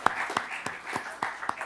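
Audience clapping for a jazz band, with a handful of distinct, fairly close claps in an uneven rhythm, short and sparse rather than a full ovation.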